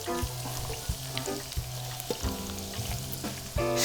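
Vegetables tipped into a hot frying pan for stir-fried yakisoba, crackling sizzle under repeated clanking of a utensil against the pan, close and busy, with a louder burst near the end.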